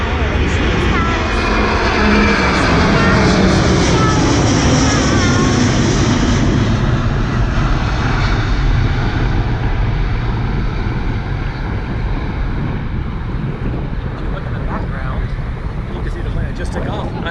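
An airplane roars as it takes off near an airport overlook at night, a loud, sustained engine rumble that stays strong throughout, with people talking over it.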